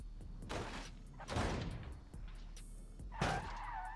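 A Wuling Mini EV rolls over in a crash test, giving several rough scraping and skidding bursts with dull impacts, the loudest coming near the end.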